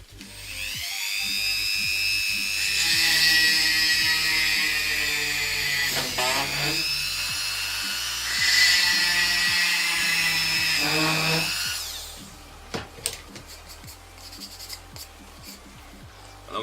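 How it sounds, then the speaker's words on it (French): Dremel rotary tool with a small bit drilling into the base of a resin figure: two long, steady high-pitched whining runs with a short pause between, then quiet handling clicks. "Je sors la Dremel avec un petit forêt qui suffira"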